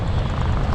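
An OV-10 Bronco aircraft roars past at an air show, giving a loud, steady, broadband engine rumble with no pause.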